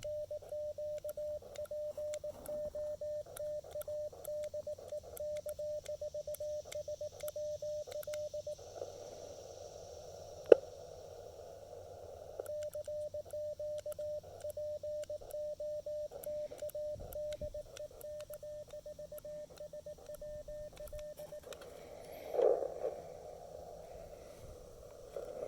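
Faint CW Morse code tones from an amateur radio transceiver at Lake Norman, a steady sidetone broken into dots and dashes and running for most of the clip under a low background hiss.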